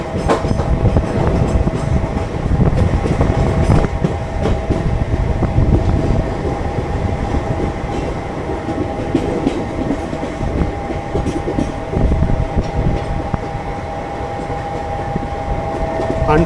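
Mumbai Harbour Line suburban local train running in a first-class coach, with a loud, steady rumble and rattling wheels that continue throughout and no speech.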